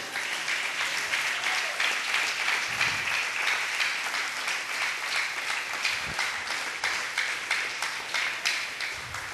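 Congregation applauding in a church during a Spanish-language worship service, a sustained dense clapping from many hands that carries for the full stretch at moderate volume, with a few faint low thumps beneath it.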